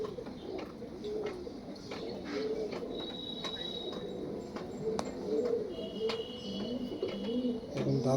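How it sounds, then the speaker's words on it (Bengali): Pigeons coo in low, repeated throaty calls close by, a paired male and female among other birds, with faint chirps and occasional high tones over a steady background. "এটা মাদি পায়রা, এটা নর।"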